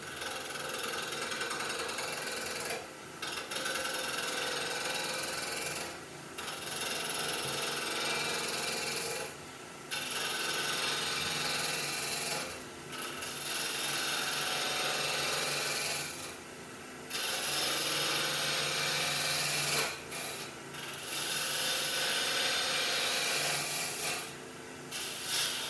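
A roughing gouge cuts wood spinning on a lathe at about 1600 RPM, giving a continuous close rasping, scraping drone broken by brief dips every few seconds as the tool lifts and re-engages.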